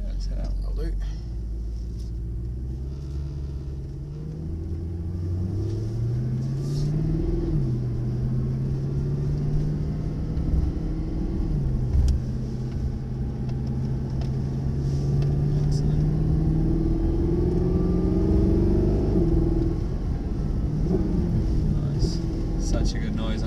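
A Mercedes SLS AMG's engine rumbles deeply while braking on a driving circuit, pitch rising and falling with throttle blips, a steady low roar under people talking.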